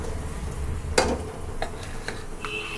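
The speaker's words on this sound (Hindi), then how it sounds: "ये जो मैंने आलू लिया था उसे मैश कर लिया है, ऐसे ब्राउन होने तक इसे भी मिक्स कर लेना है" Mashed potato being stirred and mixed in a hot frying pan with spices, soft scraping and light sizzling under a few sharper spoon taps against the pan.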